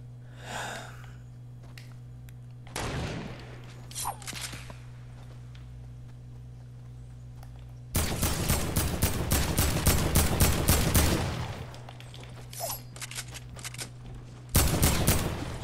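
Heavy assault rifle gunfire in Fortnite rattles out in two loud, sustained automatic bursts, one several seconds long and a shorter one at the end, with quieter game sounds and breathy noises between them.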